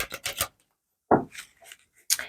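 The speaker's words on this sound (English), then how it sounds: "And we are doing live shuffling." Tarot cards are shuffled by hand at close range in short rasping riffles, two quick bursts, a pause, then a longer swish and another brief riffle in an otherwise quiet room.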